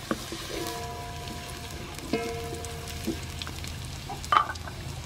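Chopped garlic frying in soybean oil for shrimp fried rice, a steady close crackling sizzle throughout with a few clinks of a utensil against the pan.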